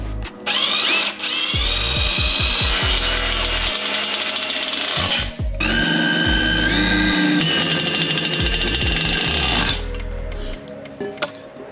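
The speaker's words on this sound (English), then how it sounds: "now we're just gonna go ahead and drill through them" A power drill whirs loudly through material during an Audi S6/A6 heat exchanger install, in two long bursts with a brief pause between them and low thumping pulses underneath.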